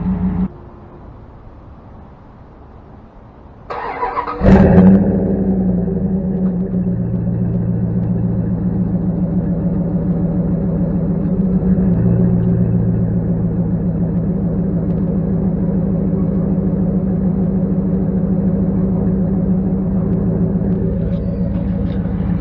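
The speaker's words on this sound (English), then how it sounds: "I'm gonna let the car warm up and see what happens." A 2000 Dodge Durango engine fires up after a quiet stretch and settles into a steady, loud idle with a low rumble while it warms up, running unchanged to the end.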